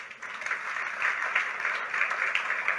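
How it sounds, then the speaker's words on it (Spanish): A congregation at a Sunday church service breaks into dense, continuous applause. It is a thick, even patter of many hands clapping at moderate volume for about three seconds. "Si va a aplaudirle, hágalo fuerte."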